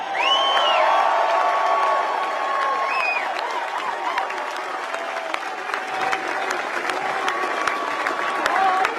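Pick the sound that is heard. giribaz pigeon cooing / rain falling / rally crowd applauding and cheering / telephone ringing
rally crowd applauding and cheering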